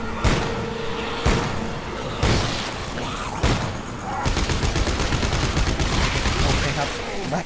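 Rapid gunfire from the sci-fi horror game Dead Space 3, with a few heavy separate shots followed by a sustained, loud burst of automatic fire, dense and close over a noisy game soundscape.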